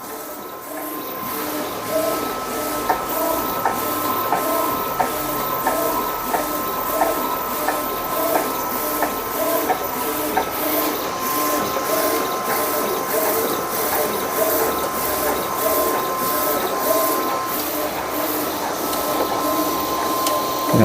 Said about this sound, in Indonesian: Oke, proses cetak.